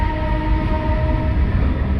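Metro train passing near Alandur, a close, steady rumble with a faint high whine holding level throughout, with no voices.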